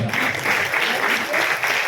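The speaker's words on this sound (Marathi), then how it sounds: "टाळ्यांचा जरा जोरदार" Audience clapping at a short film prize distribution ceremony, a dense, steady round of applause from a crowd throughout the moment.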